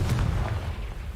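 A loud, booming Confringo spell explosion in Hogwarts Legacy, a single heavy low blast that rolls on briefly and fades, with no voices.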